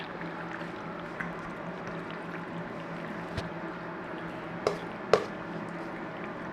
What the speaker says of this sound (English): Take the dish that you're going to put it in and whack all your tuna casserole in there.